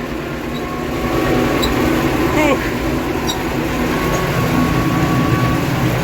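A YUMZ-6 tractor towing a tank trailer on a farm, with a steady, loud engine drone and rumbling running throughout and faint clanks on top.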